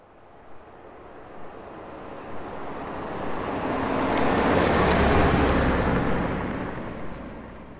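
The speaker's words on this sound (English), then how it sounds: "So the first thing we've got is a sound of a car on the road." A car drives along a road as a sound-design effect, a broad roadway rumble and tire hiss that fades in, swells to a peak as it passes and fades out again.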